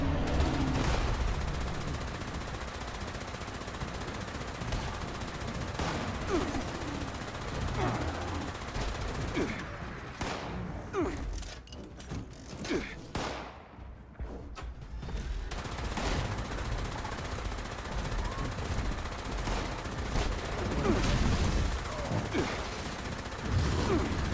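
Dense, sustained gunfire from the video game Fallout 76, with rapid bursts and volleys that briefly thin out midway before resuming, heard alongside a player's voice.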